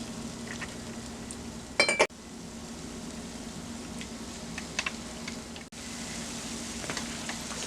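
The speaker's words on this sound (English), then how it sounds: "Yes, it's hot, and it's time to start frying" Oil sizzles and crackles steadily at low volume as kala (puff puff) dough fries, with a brief clatter of utensils partway through.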